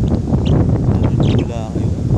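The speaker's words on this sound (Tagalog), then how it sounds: "Ang lakas ng hangin." Strong wind buffets the microphone with a loud, low rumble at a hilltop viewpoint in Bulacan, Philippines, near the Candle Monument. People are talking under the gusts.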